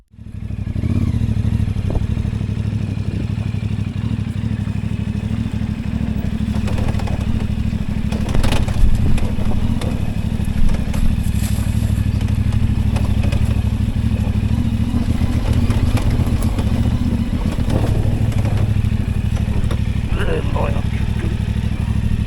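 A CF Moto 450MT motorcycle rides an enduro loop on the Sunny Coast, its engine droning steadily and loudly throughout, with clattering bumps from rough terrain and occasional revs.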